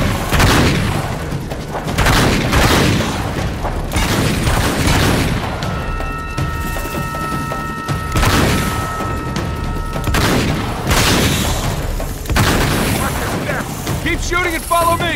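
Gunfire in an action video game comes as repeated loud booming shots and bursts over about fifteen seconds, mixed with frantic character voices shouting over the fighting.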